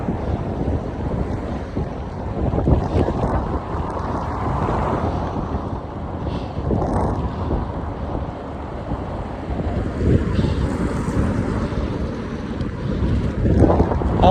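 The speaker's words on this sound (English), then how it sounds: "The wind is helping me cool down." Steady, loud wind buffets the microphone throughout a long outdoor bike ride, a continuous broadband roar with gusts swelling and easing, no voices heard.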